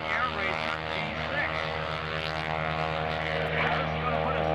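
Modified T6 propeller air racer at the 2003 Vectren Dayton Airshow air racing demonstration, a steady loud droning engine and prop roar throughout, with an announcer's voice talking over it.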